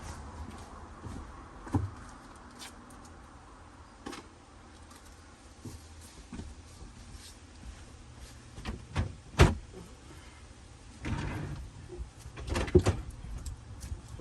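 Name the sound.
cutlery drawer handled in Sprinter camper van kitchen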